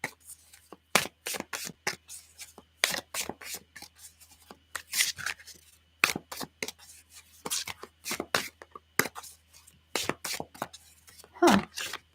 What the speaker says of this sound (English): let me shuffle a little bit